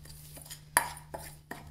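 A dried sage and basil rub being mixed in a bowl, with a sharp utensil clink followed by a couple of softer taps and scrapes against the dish, close and quiet.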